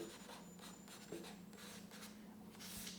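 Marker or pen writing on a board for a basic drawing lesson, faint scratchy strokes and rubbing over a quiet hum, with no talk.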